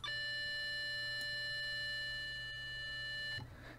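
SunVox synth tone with a panning envelope sweeping it from ear to ear, heard as a steady, bright, buzzy note with strong overtones that holds for over three seconds, then cuts off abruptly.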